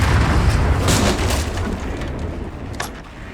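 A mortar firing and its shells exploding in Resident Evil Requiem, dense rumbling booms and cracks that fade toward the end, with no talk.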